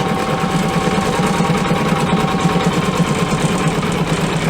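An embroidery machine sews a triple stitch on vinyl for an in-the-hoop glasses holder, giving a steady, close, rapid mechanical chatter with constant low hum throughout.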